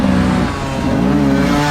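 An enduro motorcycle engine held at full throttle during a 2021 hard enduro race, a loud, steady, droning roar whose pitch dips briefly and then climbs again, with no voices.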